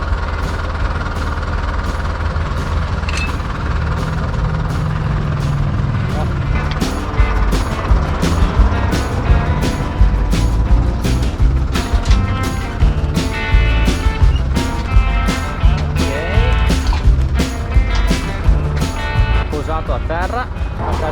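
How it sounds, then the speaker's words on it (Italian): A tractor engine runs loudly and steadily while the tractor is unhitched from an RM Super Rain irrigator in a maize field. A low rumble continues throughout, with clanking and rattling over it and people talking. "Adesso stacchiamo il trattore."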